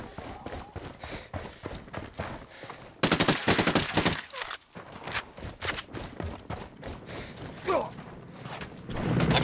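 Rapid gunfire crackles through a firefight in the video game Ghost Recon Wildlands, dense bursts of automatic shots with a very loud, sustained volley in the middle, set against game ambience.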